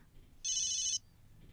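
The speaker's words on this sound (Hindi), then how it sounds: "डीएसपी दुर्गा का फोन आ रहा है।" A phone ringtone sounds in a police station setting as a single bright electronic burst of about half a second, clear over a quiet background.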